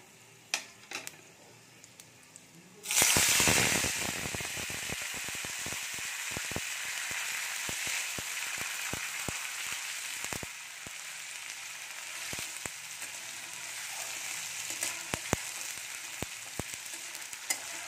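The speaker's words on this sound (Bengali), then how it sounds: "এবার দিয়ে দেব আদা আর কাঁচা লঙ্কার" Ginger and green chili paste drops into hot oil with a sudden loud sizzle that settles into a steady crackling fry, punctuated by sharp scraping ticks from a spatula stirring the pan.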